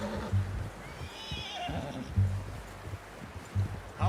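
A horse whinnies briefly in the video game Red Dead Redemption 2 amid outdoor ambience, with a few soft hoof thuds and low rumbling in the background.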